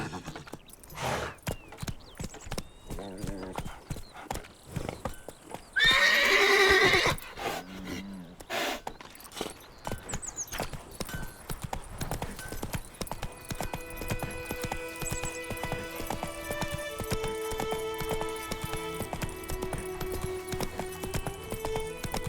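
Horse hooves clip-clopping and a whinny from a mount in The Witcher game, with rhythmic steps early and a loud neigh burst, then a steadier background layer of game music.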